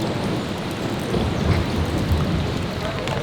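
Dense rain pouring steadily close by during a jungle trek to Ciudad Perdida in Colombia, a constant loud hiss of drops hitting surfaces, with faint low rumbles and a hint of voices underneath.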